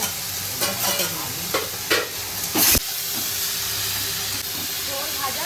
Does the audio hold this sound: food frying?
yes